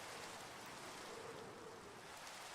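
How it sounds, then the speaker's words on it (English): Rain falls in the Minecraft video game during a storm, a steady, even hiss of downpour that stays faint and continuous with no talk over it. "It's raining over here too"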